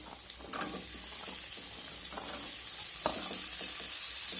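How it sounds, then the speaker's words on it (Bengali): Green beans stir-fried with lightly fried onion in a pan, an even hissing sizzle underneath several soft scraping stirs, close up and with no one speaking. "বিনসগুলো দিয়ে আমি প্রথমে একটু নেড়ে চেড়ে নেবো"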